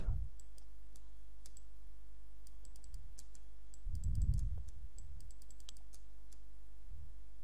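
Scattered sharp clicks of computer keyboard keys come one at a time and in small bursts over a low, steady electrical hum. The keys are quiet but crisp, with no talking.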